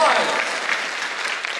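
A crowd applauds at a convention panel for anime voice actors, dense steady clapping that fills the room for the whole stretch and sounds close and loud.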